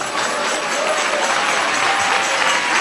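A church congregation applauds together in a short, steady burst of dense clapping that fills the room at a fairly loud, even level.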